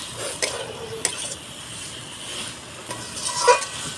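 Young jackfruit curry is sautéed with spices in a pan, a low steady sizzle beneath scattered scrapes and knocks of the stirring spatula, close by.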